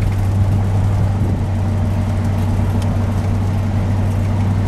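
A 1957 Chrysler 300C cruises on a drive through corners, its engine a steady low rumble with road and wind noise filling the cabin, with no talking.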